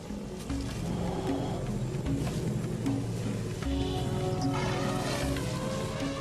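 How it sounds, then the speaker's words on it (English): Elephants trumpet and growl in the wild, a dense, loud, continuous mix of rumbling growls and brassy calls layered with other animal noise and no talk. "We all know that elephants are noisy. It's hard to miss their trumpets and growls."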